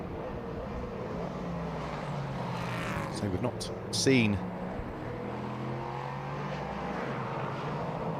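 A prototype race car at Zandvoort crosses the start-finish line, its engine note rising and falling as it passes, with a faint propeller-like drone in the background, all under steady commentary.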